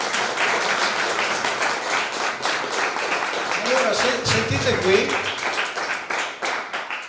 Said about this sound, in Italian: abbiamo fatto l'applauso alla Lucia